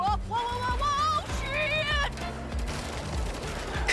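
Player's gun firing in the video game Saints Row, a dense fusillade of game gunfire under a music-like tonal layer, continuous and fairly loud throughout with no clear separate shots.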